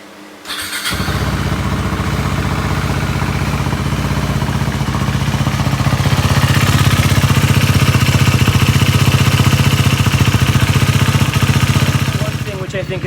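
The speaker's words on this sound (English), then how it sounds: "so let's fire her up." A KTM 390 Duke motorcycle engine starts after about a second and settles into a steady, loud idle right up close, its even low throb running unbroken through the rest of the clip.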